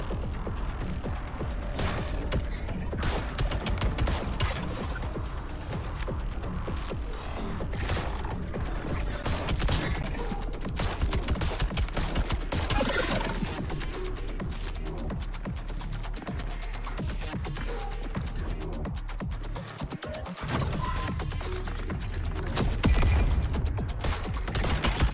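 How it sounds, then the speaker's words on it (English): Rapid, dense bursts of gunfire from a pistol modified into a shotgun in a video game play almost nonstop at high volume, with clattering mechanical sounds running underneath. "I sort of turned my pistol into a bit of a shotgun"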